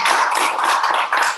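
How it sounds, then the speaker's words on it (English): Webinar participants applaud together, a steady, dense wash of clapping that stays loud and even for the whole moment, with a brief dip near the end before it swells again. "Give me a round of applause."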